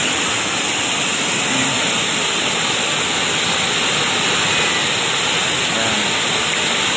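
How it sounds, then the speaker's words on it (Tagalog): Strong rushing water roaring as a loud, steady, broadband wash that fills the whole clip without pause, close by and overwhelming. "Tubig, napakalakas talaga ang tubig ngayon."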